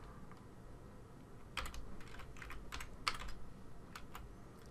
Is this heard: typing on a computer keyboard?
yes